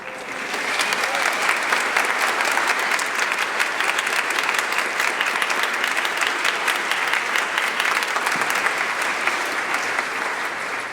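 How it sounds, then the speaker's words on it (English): Loud, dense applause from a concert audience at a Centerville Pops Christmas show, honoring the directors, a continuous wash of clapping sustained evenly for about ten seconds before easing slightly. "One more round of applause for our directors, please."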